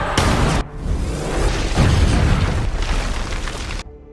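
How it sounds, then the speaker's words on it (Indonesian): A fuel jerry can blown up by gunfire in the zombie film Army of the Dead, a loud booming explosion with a sharp initial burst followed by a rolling, roaring blast that cuts off abruptly. "jerigen minyak yang dibawa oleh Chambers hingga membuatnya meledak"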